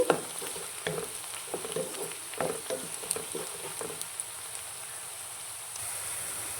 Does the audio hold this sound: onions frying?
yes